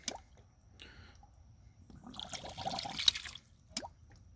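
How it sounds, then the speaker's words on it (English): Water ram pump gives soft clicks followed by wet gurgling and sucking as air bubbles are drawn back up the drive pipe, irregular, close and quiet, with no talking. "Every time it clicks, I hear it suck air bubbles back up through the drive pipe."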